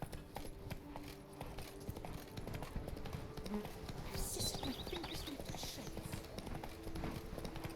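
Horse hooves in The Witcher 3 during a ride toward Blood and Wine territory, a soft, steady clip-clop rhythm under game ambience while someone speaks briefly.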